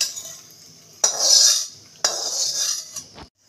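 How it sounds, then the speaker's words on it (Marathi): Ladle stirring kheer with ghee-roasted raisins in a kadhai: two long, bright metallic scraping strokes against the pan, each starting with a sharp knock and dying away, close up with no talking. "आता हे मस्तपैकी मिक्स करून घेऊया"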